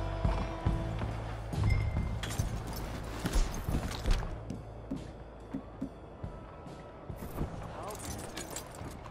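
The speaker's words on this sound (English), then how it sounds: "Let's hitch up here." Horse hooves clip-clopping at a walk in the video game Red Dead Redemption 2, irregular hollow knocks under a low rumbling game ambience, with someone speaking briefly.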